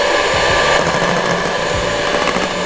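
An electric mixer runs on speed 1 through cupcake batter, making a loud, continuous motor whir up close with a gritty, churning texture and no pauses.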